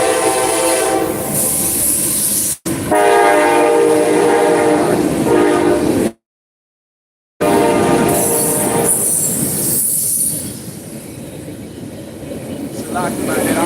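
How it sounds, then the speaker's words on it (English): A passing train rumbles loudly and close with horn blasts, squealing wheels and clattering cars, broken by a short dropout, then fading to a lower roar. "I don't want to yell over the train"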